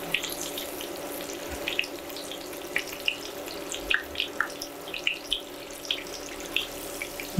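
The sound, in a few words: food sizzling while frying in a pan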